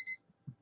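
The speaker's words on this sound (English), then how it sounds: "Beep beep." An electronic alarm on a retro PC Engine games console gives two short, bright beeps, one at the start and one at the end, with a soft thump between them.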